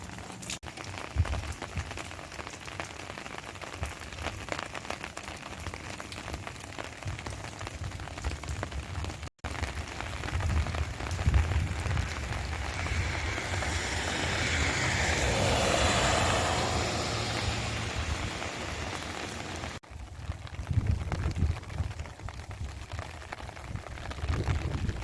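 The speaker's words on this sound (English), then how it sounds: "Still raining steadily. Just a consistent rain." Steady cold rain falls during a winter storm in metro Phoenix, a constant hiss with a low rumble of passing traffic or aircraft underneath, continuous throughout.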